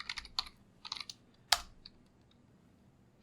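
Keystrokes on a computer keyboard while running an executable script, a few quick bursts of close, crisp clicks with a sharp louder tap near the middle, then quiet.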